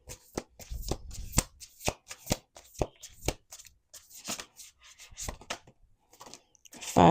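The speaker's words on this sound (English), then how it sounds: "We're going to do 2 more shuffles." Cards being shuffled up close: a series of sharp riffling snaps and taps in an uneven rhythm, with a brief burst of voice at the end.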